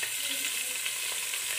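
Chopped capsicum sautés in hot oil with garlic paste, a steady close crackling sizzle with light stirring, no voices.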